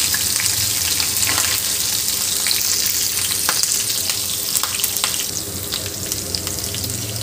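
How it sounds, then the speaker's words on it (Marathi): Green chillies fry in hot oil with browned garlic, giving a steady, close, loud sizzle with a few stirring scrapes and no talk. "आता यामध्ये आपल्याला मिरची घालून घ्यायची आहे"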